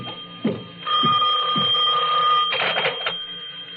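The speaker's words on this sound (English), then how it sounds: "but my phone was ringing." A telephone rings in an audio drama, its bell trilling in sustained bursts after a few soft thuds, close and clear with no voices over it.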